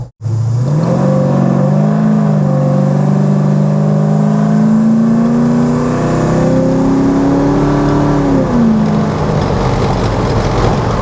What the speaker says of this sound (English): we're cruising along at 80 kilometers an hour